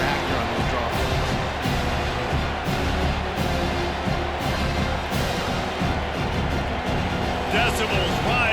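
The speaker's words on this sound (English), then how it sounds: "Decibels rising as the crowd gets behind this defense on 3rd down" A football stadium crowd roars steadily on third down at a Michigan State versus Penn State game, a dense, sustained wall of cheering and noise with no clear breaks.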